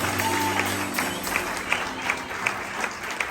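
Congregation applause at an evangelical church service, a steady broadband wash of clapping with crowd sound, louder at the start and then holding at moderate level for a few seconds, with a faint tone and some voice beneath.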